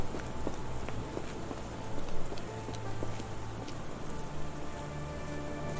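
Steady rain falls in the video game Sherlock Holmes The Awakened, a dense, even patter of drops on hard surfaces that carries on without pause. Scattered faint ticks and low hum sit beneath it, and no voices are heard.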